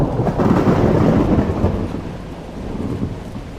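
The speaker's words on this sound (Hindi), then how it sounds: "बहुत तेज बारिश और ठंडर के कारण शहर की लाइट गुल हो जाती है।" Heavy, continuous rain roars close by while deep thunder rumbles through it, loudest early and then easing slightly, with no voices.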